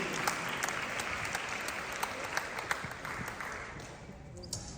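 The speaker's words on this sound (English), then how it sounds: "round of applause one more time for the parents of the bride, Olivia Kang and Dale Moose." Steady applause from a wedding reception crowd honouring the bride's parents, a dense, even wash of clapping with a few sharper claps standing out, moderately distant and sustained throughout.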